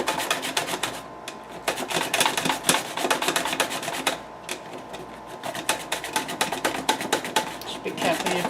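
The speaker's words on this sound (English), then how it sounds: "Now I'm not going to cut the stem off because that's what I'm going to use to hold while I grate it." Whole zucchini, held by the stem, are grated by hand against a grater, making steady, close, rhythmic rasping strokes that continue with only brief pauses.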